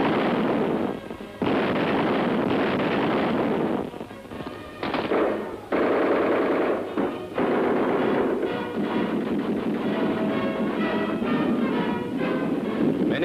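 German siege guns firing on Stalingrad in 1942, a dense barrage of booming blasts and crackling gunfire that rolls on almost without pause, loud and close, with brief lulls between volleys.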